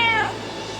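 A single short, descending cat meow, voiced by a person imitating a cat for the Shaco cat skin in the League of Legends video game, heard clearly and alone.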